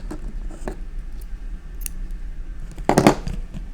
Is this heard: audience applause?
no